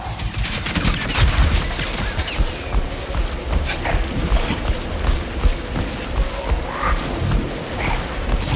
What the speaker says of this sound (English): Stop shooting and run!